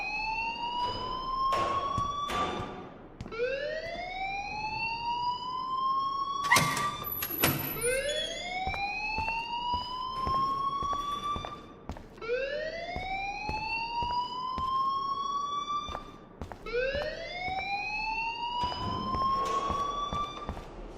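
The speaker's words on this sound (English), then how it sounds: "please turn off that alarm since that's your job." A siren-style alarm in the Life Is Strange video game wails in repeated rising sweeps, each lasting about two to three seconds, loud and continuous, with occasional thuds and clatter between cycles.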